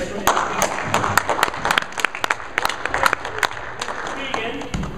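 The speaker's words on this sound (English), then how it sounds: "Let's all clap for everybody." An audience at a gospel drummers' contest claps in a scattered burst of sharp hand claps, fairly close, gradually thinning out toward the end.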